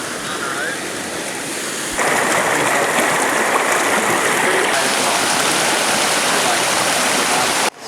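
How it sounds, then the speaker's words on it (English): A river rushes along during a wilderness hike, a broad continuous roar of flowing water that swells louder after a couple of seconds and stays steady, close to the microphone. "I'm just gonna show you the river now."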